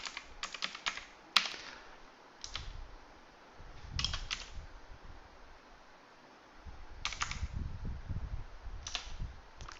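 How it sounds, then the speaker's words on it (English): Bursts of keystrokes typing commands into a turtle graphics console on a computer keyboard, short clustered clicks separated by pauses, close and fairly quiet over soft background rumble. "we can just type commands in at the console here like this"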